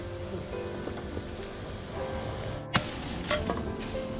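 Sugarcane juice boiling down in a pan for hours until it turns reddish: steady bubbling sizzle with a low crackle throughout, broken by a sharp knock or clatter and a few brief scraping sounds.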